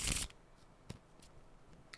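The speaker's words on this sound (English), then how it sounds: "So, nice little shuffle." A deck of playing cards shuffled at the start of the clip, a brief dense riffle up close. A few faint clicks and taps follow in a quiet room.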